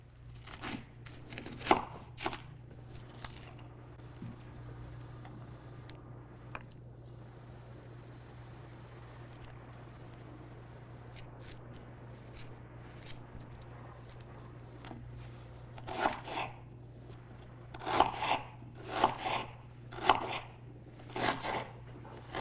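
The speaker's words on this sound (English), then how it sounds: "So here are my veggies that will be chopped up to make that." Vegetables for a Ugandan vegetable Rolex omelet are chopped on a board with a knife, sparse sharp taps early, then a quicker cluster of cuts near the end, close but soft over a steady low hum.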